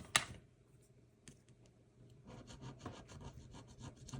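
Scratch card being scratched with a coin or nail, a faint rubbing rasp starting after a brief click, then continuing as a steady series of short scraping strokes that grow slightly louder toward the end.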